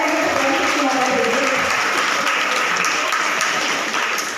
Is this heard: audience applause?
yes